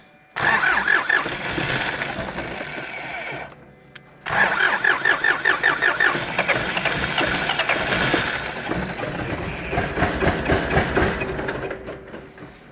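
A tractor engine cranks and catches after fuel system repair, dies briefly, then cranks again and runs with a loud, rough, pulsing idle close by.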